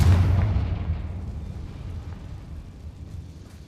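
Confringo blasting spell in the video game Hogwarts Legacy: a single loud, deep explosion booms at the start, then its rumble slowly fades away.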